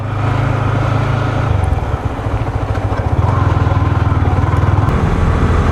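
A light motorcycle ridden through traffic, its engine droning loud and close with a steady pulsing throb that rises slightly partway through.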